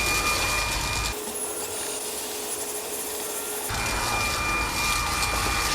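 A Fanttik V10 Apex cordless car vacuum runs on its high setting inside a car, a steady loud whooshing hum with a lower, muffled stretch in the middle as the extension nozzle reaches behind a pedal.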